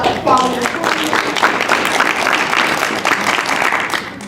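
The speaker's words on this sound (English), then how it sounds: "Give a clap up for quality" Clapping fills a preschool board meeting room as the audience applauds for about four seconds, loud and sustained, with some talk mixed in.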